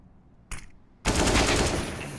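Counter-Strike gunfire from a pro IEM Katowice match, Copenhagen Flames versus Gambit: a brief crack of shots, a short pause, then a loud sustained burst of rapid automatic fire that runs to the end and ends in a headshot.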